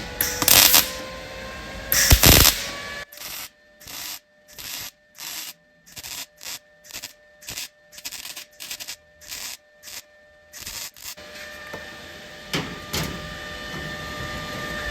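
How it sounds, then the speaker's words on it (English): Inverter welder turned down low, tack-welding to fill a gap in a fabricated steering column for a 1937 Lincoln Zephyr: a string of short crackling bursts in an even stop-start rhythm, close and fairly loud, with brief silences between. "this inverter welder works wonderfully for that"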